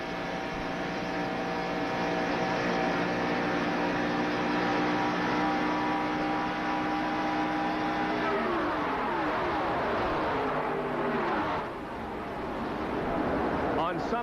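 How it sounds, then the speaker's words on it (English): A 1987 NASCAR stock car at full throttle in the 1987 Winston 500 at Talladega, heard from inside the car: a steady, droning engine roar that holds, then its pitch sweeps and shifts near the end. "We're inside Cale Yarborough's car"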